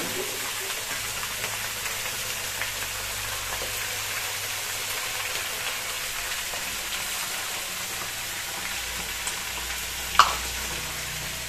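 Onion paste frying in a pan for a raw pumpkin and shrimp curry gives a steady, even sizzle throughout, with one short sharp pop near the end.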